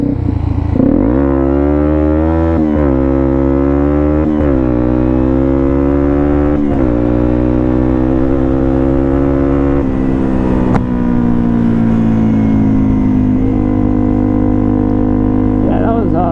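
Yamaha TW200 dual-sport motorcycle accelerating on a dirt road, its engine loud and close, repeatedly climbing in pitch through the gears with brief dips at each shift before holding a steady high drone.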